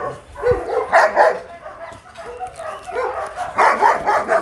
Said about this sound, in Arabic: ده كلبي